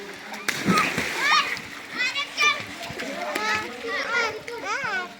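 Young children splash and play in water nearby, with bursts of splashing mixed with their lively, high-pitched voices and calls.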